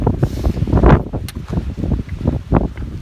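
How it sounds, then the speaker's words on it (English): Strong gusting wind roars across an exposed Appalachian mountaintop at White Top Mountain, Virginia, buffeting the microphone with loud, uneven rumbling that swells and eases throughout. "boy is it windy."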